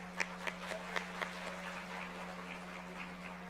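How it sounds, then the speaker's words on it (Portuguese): Audience at a solemn Family Day session clapping, a few sharp claps at first that settle into soft, distant, sparse applause over a steady hum. "Salva de palmas"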